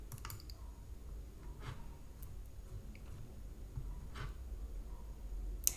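Someone types on a computer keyboard, giving scattered, faint key clicks and taps over a quiet room hiss. A sharper click sounds near the end.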